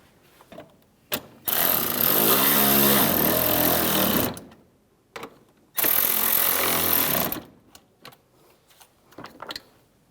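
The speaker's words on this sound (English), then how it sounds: "just put all 4 of those in and tighten that down" A power tool drives and tightens the four screws of a fog light bracket on a 2011-2019 Ford Explorer, in two loud, close bursts of rising whir, each a couple of seconds long, with brief clicks and handling noises between them.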